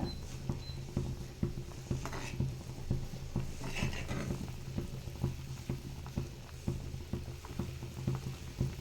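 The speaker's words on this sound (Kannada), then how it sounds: "ಇದು ಕೂಡ ಒಳ್ಳೆಯ ರೀತಿಯಲ್ಲಿ ಕುದೀತಾ ಇದೆ" Sweet payasam pudding boiling in a pot, with a steady close bubbling and soft popping patter running throughout, plus a faint low hum underneath.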